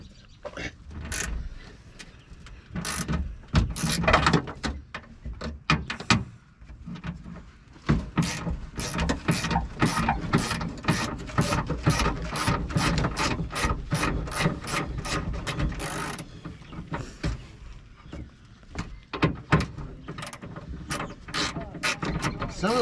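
A ratchet wrench removes a seat belt bolt from a wrecked car being turned into a race car, sounding as rapid bursts of close, sharp clicking that stop and start between pauses, with brief speech in places.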